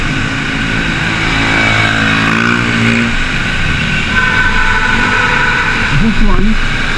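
Street traffic in the Philippines at a busy hour, with steady engine drone and passing cars and motorcycles, one vehicle revving and pulling away near the middle, constant and moderately loud throughout.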